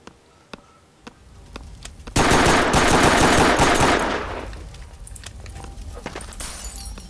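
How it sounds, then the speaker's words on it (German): Sustained burst of automatic gunfire in the block-building shooter game Brickforce, loud and dense for about two seconds before trailing into lighter rattling shots and scattered pops. "Wie du einfach die ganze Zeit auf mich schießt."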